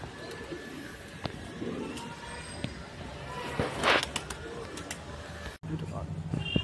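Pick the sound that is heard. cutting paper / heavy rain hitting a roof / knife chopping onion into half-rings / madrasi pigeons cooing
madrasi pigeons cooing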